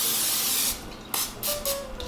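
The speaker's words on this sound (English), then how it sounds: "Okay, so I'm going to get some non-stick cooking spray." Non-stick cooking spray hisses onto an air fryer basket before chicken wings go in: a steady close spray burst lasting under a second, followed by quieter clicks and handling sounds.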